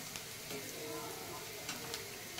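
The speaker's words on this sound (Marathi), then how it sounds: "कांद्याचा कच्चा वास जाईपर्यंत कांदा परतून घ्यायचा आहे चांगला" Chopped onion sautés in a pan for Maggi noodles, with a quiet, constant sizzle and a few light stirring scrapes close by. No one speaks.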